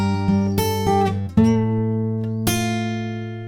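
Fingerstyle acoustic guitar plays the closing two bars of the Harry Potter theme: a handful of clearly plucked notes and chords ring out cleanly and close, each left to sustain and decay, the final chord fading out alone.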